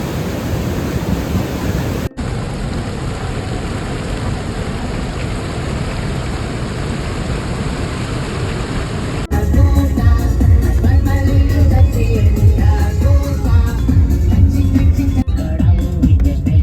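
A 60-metre waterfall in Sweden gives off a constant broad hiss of falling water, steady and fairly loud. Midway a denser, louder wash of water takes over with a faint tonal layer running through it.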